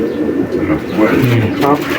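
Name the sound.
racing pigeon cooing in a loft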